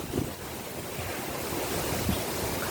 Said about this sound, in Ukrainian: Але дуже сильний вітер сьогодні. Задуває.